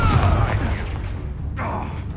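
A Confringo spell blast goes off in the Hogwarts Legacy game: a sharp, booming burst with a rumbling low tail, then a second, softer whoosh a moment later.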